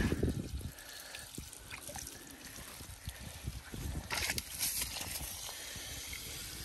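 Clean water poured into a hole in the ground, rising to the surface and draining away, heard as a steady trickle with irregular gurgles and splashes nearby.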